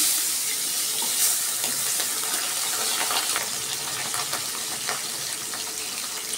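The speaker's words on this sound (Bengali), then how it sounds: "তেল গরম হয়ে গেছে, আমি মাছ দিয়ে দিচ্ছি" Pabda fish is slid into hot oil in a wok and fries with a loud, steady, broadband hiss that fills the whole stretch without a break.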